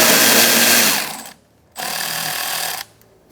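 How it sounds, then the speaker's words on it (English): Power tool whirring on an 8mm socket while removing a bolt on a 2014-2019 Kia Soul 1.6L, two loud close bursts separated by a brief pause, with no talk. "Using an 8mm socket, we're going to take out this bolt here."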